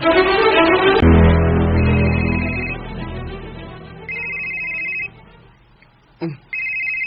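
A cellphone rings with a repeating electronic ringtone, loud and close, in short bursts with pauses between them.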